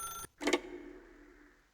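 A telephone in The Stanley Parable Ultra Deluxe gives a brief bright electronic ring, stops, then rings once more and fades out, fairly faint and alone.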